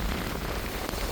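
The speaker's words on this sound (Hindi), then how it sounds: "और बारिश ऐसी होगी मैं पूरा भीग गया हूँ भाई।" Heavy rain falls steadily in a dense, continuous hiss with no clear pauses, close and fairly loud, somewhere on the road in India while travelling by scooter.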